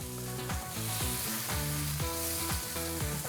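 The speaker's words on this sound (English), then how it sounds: "we're gonna use this butter, it has been melting, and we're gonna baste only our tenderloin steak" Melted butter sizzles steadily as it is spooned over a tenderloin steak with rosemary, a close, continuous frying hiss under prominent background music.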